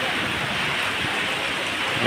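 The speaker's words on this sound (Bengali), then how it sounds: "এখানে যে হারে অজস্র বৃষ্টি হচ্ছে, কোনো প্রকারে বৃষ্টি থামছে না" Heavy, unrelenting rain pours down in a steady, dense hiss that fills the whole stretch at close range, loud and uniform without pause.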